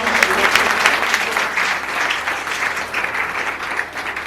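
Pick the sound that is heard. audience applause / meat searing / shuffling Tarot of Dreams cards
audience applause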